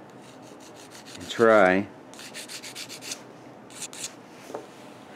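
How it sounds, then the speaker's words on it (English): Worn sandpaper on a stick rubs across the soft silver-soldered contact studs of a clothes dryer switch in a loud, scratchy burst of sanding. Several fainter scrapes follow, with a brief spoken phrase in the clip. "get in here with a very technologically advanced tool, some worn sandpaper on a stick"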